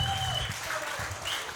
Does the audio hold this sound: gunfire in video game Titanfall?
no